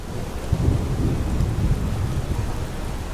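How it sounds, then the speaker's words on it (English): Steady rain pours with a low rolling rumble of thunder in the Skyrim video game, continuous and fairly loud with no voices over it. "This rain just needs to, you know, go away. It's remarkably dreary."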